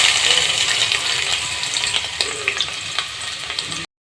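Medium-sized onions fry in oil in a pan, a close, crackling sizzle with stirring clatter throughout, fading out abruptly at the end.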